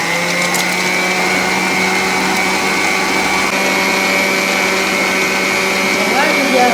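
An electric hand mixer whirs steadily through cream and mascarpone for a strawberry cake filling, a loud close motor drone with a rattling, grinding edge that holds throughout.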